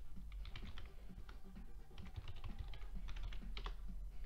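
Rapid typing on a computer keyboard while logging into the game Hacknet, with irregular bursts of clicky keystrokes and short pauses, close and fairly quiet, no talking.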